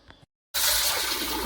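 Cleaned squid rinsed under running tap water, a steady gushing splash that starts abruptly after a brief pause and continues at close range.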